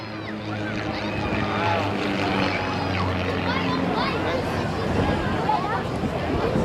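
Two aerobatic propeller planes fly in mirror formation at the Blackpool Airshow in 2017, making a steady, droning engine roar from a distance beneath crowd babble.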